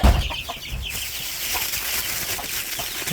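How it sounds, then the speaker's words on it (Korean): A hen clucking softly near a coop, low repeated clucks over a steady rustling background with a few brief louder calls and no voices. "우리 꽃분이 또 새끼 날려고 또 알틔나?"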